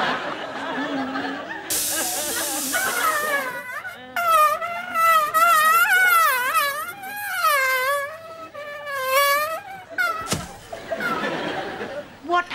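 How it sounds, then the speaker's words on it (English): A bee's buzz in a comedy sketch, a loud wavering whine that swoops up and down in pitch for several seconds, with voices before and after it. "Tis a demon come in the shape of a bee!"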